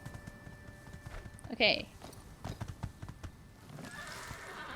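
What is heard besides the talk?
horse hooves and neighing in video game My Time at Sandrock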